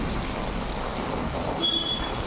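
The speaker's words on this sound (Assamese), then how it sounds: "আৰু বৰষুণ পৰি ৰাস্তা ঘাটবিলাক একদম গিলা হৈ গৈছে" Steady rain falls on a wet road, making an even, continuous hiss with no voices.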